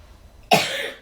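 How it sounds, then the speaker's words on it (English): A single sudden, harsh cough bursts out at close range after a near-silent moment, its raspy tail fading over the following half second. "I was starting to have a coughing fit"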